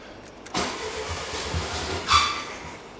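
A circa-1960 VW-based Ford Model T kit car with a bad carburetor cranks and catches abruptly, then runs with a rough, uneven note for a couple of seconds before faltering, close by with no voices.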